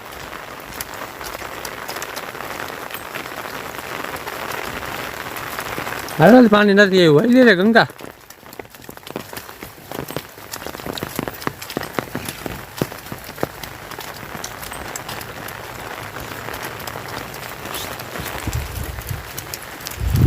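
Heavy rain pours steadily over rural fields where cattle are being herded, a dense continuous hiss throughout, while someone speaks briefly partway through.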